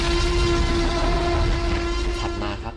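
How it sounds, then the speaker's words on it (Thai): Movie Tyrannosaurus rex roar sound effect, a loud, dense, sustained roar with a steady tonal core and gritty texture, filling the whole moment without a break. "นี่คือเสียงทีเล็กจากในหนัง"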